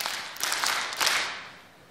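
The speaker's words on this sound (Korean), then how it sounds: "대한민국 한번 박수해 보세요" A church congregation claps the Daehan Minguk chant rhythm together, a dense crowd of hands producing rhythmic bursts that swell and fade, moderately loud in a large hall with no talk.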